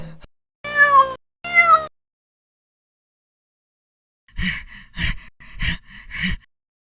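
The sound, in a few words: cat meowing in a cartoon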